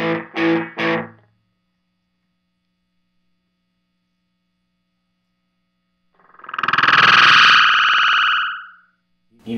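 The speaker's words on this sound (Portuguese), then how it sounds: "Reverbzinho bem curto." Electric guitar run through a Delay Llama pedal with a short reverb, giving a slightly robotic tone: a few choppy plucked notes at the start, a long silence under mains hum, then a swelling, sustained delayed passage.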